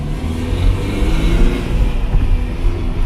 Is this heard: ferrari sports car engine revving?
yes